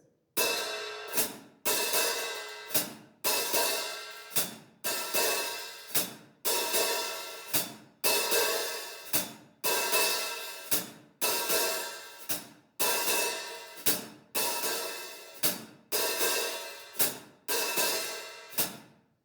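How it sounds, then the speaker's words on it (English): Bright, washy drum-set hi-hat strokes played slowly and evenly, each opening into a sizzling ring before being cut off, close and steady throughout. "back to the hi-hat"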